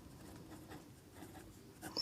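Pen or marker scratching steadily across a surface while a polynomial is written out by hand during a Class 10 maths lesson, a soft continuous scraping with no talk over it.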